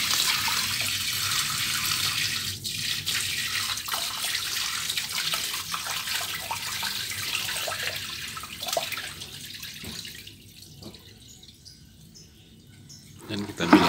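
Water pours and splashes steadily over exchanger resin as it is dumped and rinsed, a loud continuous wash that thins out and quiets near the end before a final short splash.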